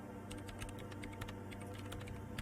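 Fast, light clicking of someone typing on a computer keyboard in the Disco Elysium video game, with quiet keystrokes in quick bursts over a low, steady machine hum.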